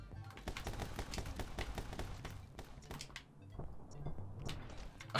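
Pistol gunfire in the My Friend Pedro video game crackles in rapid, dense bursts of sharp shots, fairly quiet overall with a brief lull midway before firing resumes.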